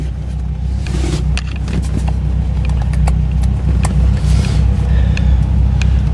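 A 2003 Dodge Viper SRT-10 engine runs steadily at idle, a loud, continuous low rumble close by with a few light clicks and rattles on top.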